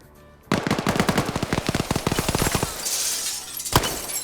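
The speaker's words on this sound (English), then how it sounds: "Depso shooting up on the second story" Rapid automatic video game gunfire fired from a second story, a long loud burst of closely spaced shots followed by a brief crackling pause and one final heavy shot.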